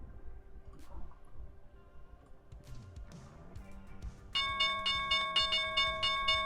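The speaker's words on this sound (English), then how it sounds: "And there's the bell." A stock market opening bell rings loud and fast as a sustained burst of evenly spaced strikes, starting partway in after a stretch of faint room noise.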